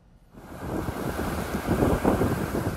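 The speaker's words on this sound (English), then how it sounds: "waves are crashing on jetties as the storm gets closer to the Cape" Storm-driven waves crash against jetties on Cape Cod Bay amid whitecaps, a loud continuous roar that swells toward the end, mixed with heavy wind buffeting the microphone.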